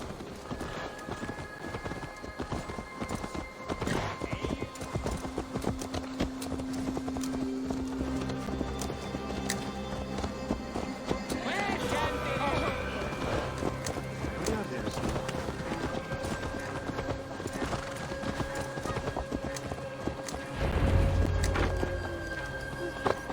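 Horse hooves clip-clop steadily on hard ground in Assassin's Creed Valhalla, mixed with the game soundtrack and ambient effects, and the horse whinnies briefly near the end.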